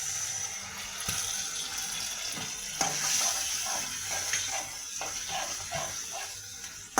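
Water rinsed from a bowl is poured into a pan of chili chicken, hissing and sizzling steadily in the hot pan with a few small clinks and splashes.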